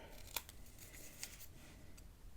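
Paper album corners trimmed with scissors while making a Stamperia Forest tiny album, two faint crisp snips standing out over a steady low background hiss.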